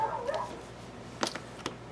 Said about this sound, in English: I do not know why Bella is barking.